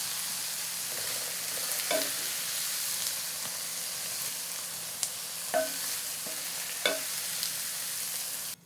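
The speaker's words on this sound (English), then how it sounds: "I'm going to remove the stuffing to a bowl and set it aside and let it cool just slightly." Apple and onion stuffing with ginger sizzling in a hot pan while it is scooped out into a bowl, a steady hiss under a few soft scrapes and taps of the spoon, close by, no voices.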